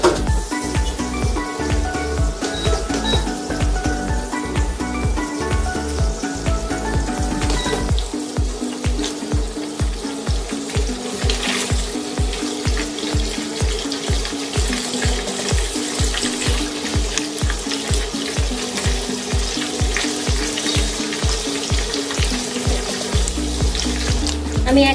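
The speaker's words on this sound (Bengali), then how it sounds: "আমার পনিরগুলো বেশ ভালো ভাজা হয়ে গেছে" Paneer cubes frying in a pan for a vegetarian dish, giving a steady, close hissing sizzle that runs throughout under a loud, rhythmic music track with a driving beat.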